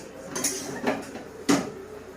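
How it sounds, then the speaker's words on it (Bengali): A lid is lifted off a cooking pot of simmering meat, giving a few light metallic clinks and scrapes spread over two seconds, with no talking. "ঢাকনাটা তুলে নিলাম"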